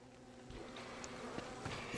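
Bees buzz in the survival game Don't Starve, a steady droning hum that grows slightly louder toward the end amid other faint game sounds, with no talking.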